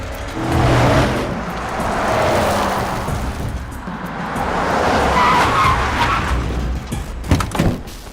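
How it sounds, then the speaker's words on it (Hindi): A white Duster car braking hard and skidding, with a long loud tire screech rising and falling over several seconds, close by, ending in a few sharp rough bursts, with no talk. "मैं ब्रेक नहीं लगाता तो गाड़ी ठुक जाती।"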